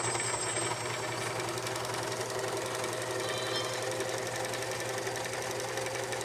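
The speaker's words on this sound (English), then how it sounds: "Then I serge over where I was, and I leave a tail." A serger sewing machine stitches over the fabric edge, a quiet, rapid mechanical whir with a steady low hum running throughout.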